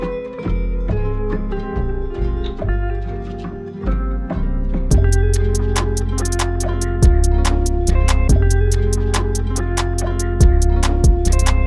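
A sample from the Netflix series Narcos plays back on an MPC Live 2, pitch-shifted down eight semitones into a deep, slowed musical loop with heavy low tones and crisp, regularly spaced percussive hits that enter partway through.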